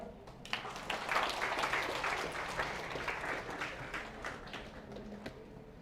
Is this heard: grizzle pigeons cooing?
no